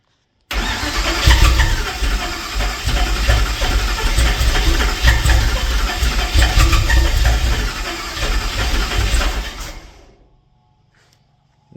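An LS4 V8 swapped into a Pontiac Fiero cranks and fires, then settles into a loud, rough idle with a raspy exhaust note for about ten seconds before cutting off abruptly.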